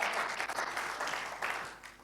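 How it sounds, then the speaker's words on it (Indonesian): A church congregation applauds during a Sunday afternoon worship service, bursting into steady, moderately loud clapping for two seconds. "Mari kita beri tepuk tangan yang meriah bagi Tuhan kita."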